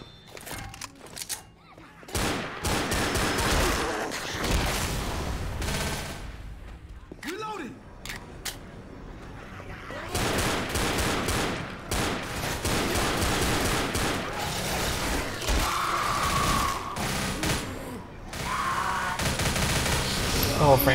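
Gunfire from the zombie shooter Left 4 Dead, set aboard a prison ship: dense bursts of automatic and single shots repeat throughout, with thuds and game effects, while players talk over the shooting.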